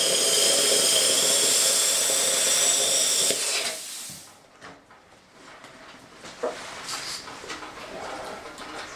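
A steel wire brush buffs grinder marks out of a metal sword blade. It gives a loud, harsh, high whine for about four seconds, then stops, leaving quieter clinks and handling noises.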